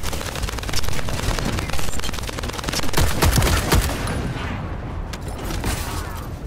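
Shotgun fire in the shooter game The First Descendant, a loud, dense run of booming blasts close by that fades to a quieter tail at the end, with no talk.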